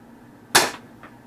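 A toy blaster fires a single ACC Prototype foam dart with one sharp, close pop, followed by a faint soft tap a moment later.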